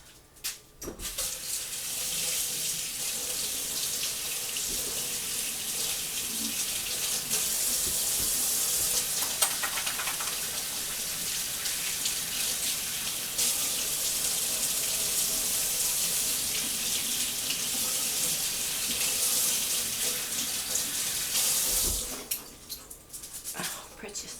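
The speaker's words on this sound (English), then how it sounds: "I'm gonna have to wash my hands real quick." A kitchen tap runs in a steady, fairly close hiss for about twenty seconds while hands are washed, with faint clatter and a dog's bark in the background before the water stops.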